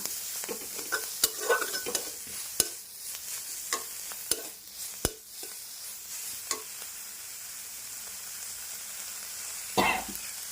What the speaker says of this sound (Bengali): এবারে নাড়াবো কিন্তু আমি ফ্লেমটা কিন্তু লোতেই রেখেছি